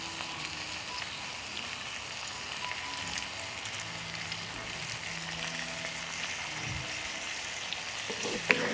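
A dish finished with fresh lemon juice fries in a pan with a steady, even sizzle and crackle that runs the whole time, close and moderately loud, with one sharp tap near the end and no voices.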